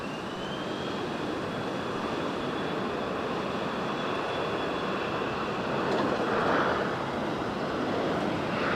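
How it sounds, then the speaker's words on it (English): A short VistaJet business jet departs Geneva Airport, its engine roar a steady, broadband rush that swells slightly toward the end with a faint whine above it, heard at a distance without talk. "we've got a short VistaJet departure"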